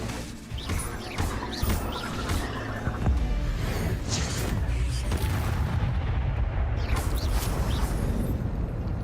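A fire spell from the Hogwarts Legacy video game goes off as a loud, sustained roaring blast, followed by ongoing rumbling crackle and booming bursts that fill the whole stretch.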